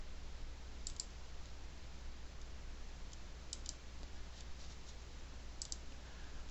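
Three brief pairs of faint computer mouse clicks spaced a couple of seconds apart, heard over a steady low hum and background hiss.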